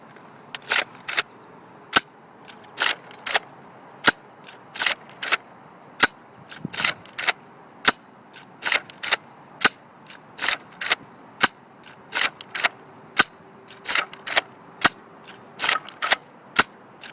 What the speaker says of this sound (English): there's 10 shots of the Elite darts